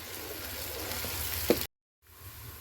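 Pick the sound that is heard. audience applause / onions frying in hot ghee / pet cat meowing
onions frying in hot ghee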